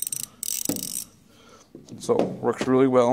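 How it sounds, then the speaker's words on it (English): Cornwell ratchet bar from a pro series tool set clicking in quick bursts near the start, followed by someone talking close by. "you can put this bar on here at any angle and it's ratcheting"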